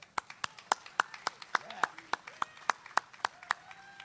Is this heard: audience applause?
yes